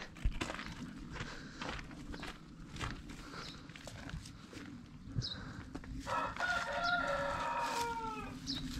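A rooster crows loudly nearby in a village farmyard in Turkey, a long rising and falling call, amid clucking hens and farmyard shuffling.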